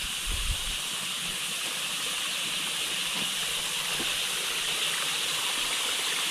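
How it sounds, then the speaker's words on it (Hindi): Fresh mountain water in a Himachal village stream flows and hisses continuously at a soft, even level, with a few faint low knocks early on. "पानी आ रहा है ताज़ा।"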